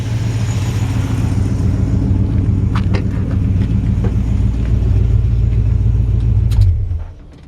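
A 1953 Ford F100 shortbed truck fitted with a Mustang 302 engine idles loudly and steadily close by, a deep, even rumble that holds for several seconds and then cuts off abruptly near the end.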